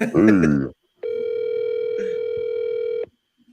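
A telephone dial tone rings out steadily for about two seconds while a call is placed, preceded by a short burst of talk and ending abruptly.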